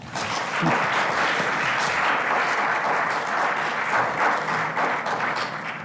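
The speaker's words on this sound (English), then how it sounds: "How about another round of applause?" Sustained audience applause at a storytelling event, a dense, even wash of clapping hands that holds steady and fairly loud for the whole stretch with no speaking over it.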